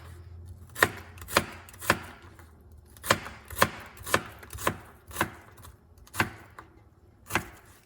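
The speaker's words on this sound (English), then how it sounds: "So turn it the other way and cut it, and now chop it" A knife chops through an onion on a cutting board, about a dozen crisp, close thuds in an uneven, steady rhythm, with no talking.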